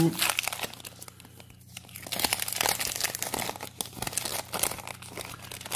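Pokémon XY Evolutions booster pack wrappers are torn open up close, giving bursts of crisp crinkling and ripping foil under a person talking.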